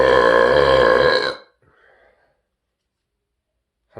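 One deep, loud, resonant burp lasts about a second and a half, then trails off into silence.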